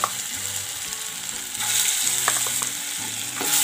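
Ginger garlic paste sizzles and fries in a pan of hot oil for chana dal kachori filling, a steady close crackle with stirring scrapes and a brief flare of louder spitting.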